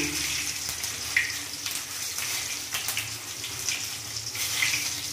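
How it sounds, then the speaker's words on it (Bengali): Two dried red chillies and white cumin seeds tempering in hot oil, producing a constant watery sizzle studded with sharp pops and crackles, close and fairly loud. "2টো শুকনো লঙ্কা আর এই একটু সাদা জিরে ফোড়ন দিয়ে দিলাম"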